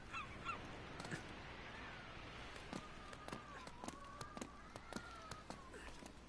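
Disturbed birds honking in the video game Uncharted, a goose-like calling that wavers over a steady background, mixed with sharp clicks and footsteps at a moderate distance.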